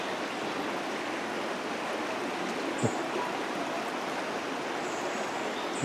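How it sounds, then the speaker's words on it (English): River water flowing through Keswick: a steady, full rushing and burbling that is close and loud, with no voices. "You can hear the water"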